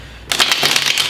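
A deck of playing cards being shuffled in a single quick run-through at a tarot-style reading, a crisp, close riffling rattle starting abruptly after a brief pause and continuing steadily with no talk.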